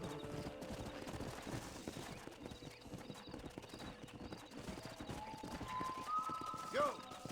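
Horse hooves clip-clopping in the Red Dead Redemption video game, a steady trotting rhythm under game music and ambience, moderately close, with a horse whinny near the end.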